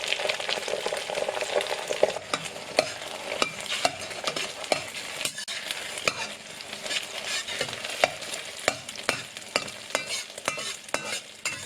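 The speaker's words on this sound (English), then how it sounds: "And then add the eggs and stir fry." Eggs stir-fried in a hot wok for egg fried rice, a steady loud sizzle with repeated scraping and clacking strokes of the spatula at an uneven rhythm, close up, with no talking.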